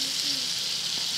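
Onion paste frying with tomato in a pan, a dense bright hiss of sizzling oil that stays steady and close for a brief moment, with no voices.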